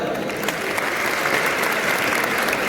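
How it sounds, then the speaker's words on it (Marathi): Enthusiastic applause from a seated crowd of students and guests at a college annual gathering, a dense, steady roar of clapping that stays loud and even for its whole length. "या सगळ्या मंडळींसाठी एका जोरदार टाळ्या वाजतात"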